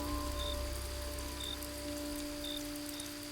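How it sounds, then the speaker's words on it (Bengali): Rain falls steadily on surfaces as a dense, even hiss, quiet and continuous, with faint hums and a few soft chirps in the background. "চতুর্দিকে শুধু নীরবতা, বৃষ্টির শব্দ আর তাদের পায়ের হাঁটার শব্দ।"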